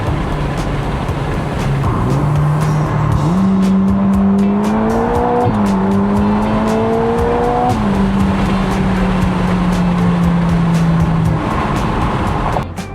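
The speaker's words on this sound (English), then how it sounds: "Got some good highway pulling power for sure once it gets through this spinning." Ferrari Roma Spider accelerating hard on a Los Angeles highway: a loud, close engine note rising steadily through the gears with brief drops at shifts, over constant road and wind noise.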